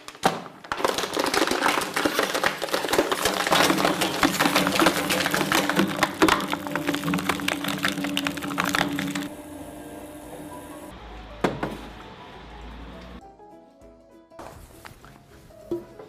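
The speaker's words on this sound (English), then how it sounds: "So the first step is we're going to shred it." A plastic shredder chewing through ABS, polypropylene and polyethylene: dense, close cracking and snapping for about nine seconds, then it winds down to a hum broken by a few sharp clunks.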